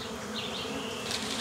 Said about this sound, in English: the smoke should repel the bees and let the men explore the hive